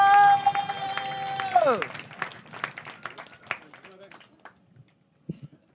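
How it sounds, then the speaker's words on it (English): A comedy club audience in Liverpool stamps and claps in a quick, uneven patter right after a short tonal sweep, then the noise thins out into scattered claps and fades to near silence. "stamp your feet, clap your hands, whoop, cheer"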